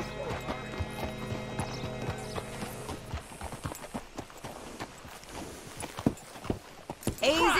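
Horse hooves clip-clop in Red Dead Redemption 2, a steady walking rhythm of hoof strikes under the game's music, with a horse whinnying near the end.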